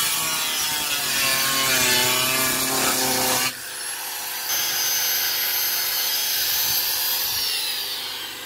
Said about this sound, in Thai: ตัดด้วยลูกหมูเลยนะครับ